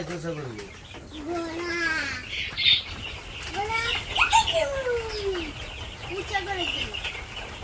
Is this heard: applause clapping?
no